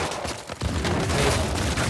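Gunfire in the Uncharted 4 video game, a dense burst of loud overlapping shots and booms over about two seconds with no pause.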